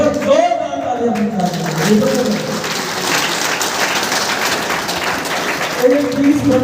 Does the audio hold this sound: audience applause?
yes